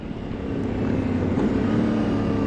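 Yamaha Ténéré 700 motorcycle engine droning steadily while riding on the road, a continuous close rumble with wind noise and no talking.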